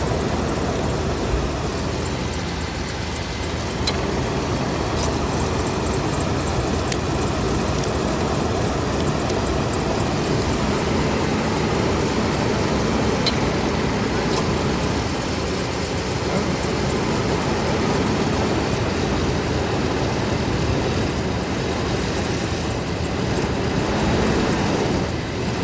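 A 1998 Chevy Cheyenne 1500 with a failing alternator idles in a steady, unbroken engine drone that holds an even loudness for the whole stretch, with no voices.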